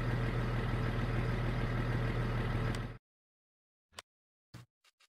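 Lizard tractor with a big cam engine, chipped to 320 horsepower, in Farming Simulator: a steady low idle drones close up for about three seconds, then cuts out to silence broken by a few short clicks.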